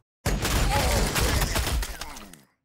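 A loud continuous volley of gunfire from the Warhammer 40,000 Sanctus Reach strategy game, a dense burst of overlapping shots lasting about two seconds before cutting off.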